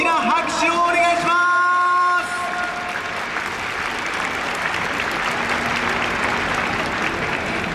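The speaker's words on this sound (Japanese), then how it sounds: "皆様、相川七瀬さんに今一度大きな拍手をお願いします。" In a baseball stadium at a Yokohama DeNA BayStars game, a crowd breaks into loud, sustained applause after a ceremonial first pitch. A tonal, amplified announcement carries over the opening seconds, then broad clapping and cheering fill the rest.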